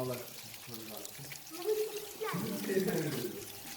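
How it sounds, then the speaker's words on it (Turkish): Water runs from a tap as a child washes hands after working with pottery clay, a steady close splashing trickle heard beneath an adult's chatter. "Eymen şimdi elini yıkıyor."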